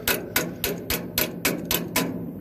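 Steel hammer, a roughly 4-pound sledge, tapping a glad hand air-brake coupling fitting during a leak repair: eight sharp metallic taps in a steady rhythm, close and clear with no talk.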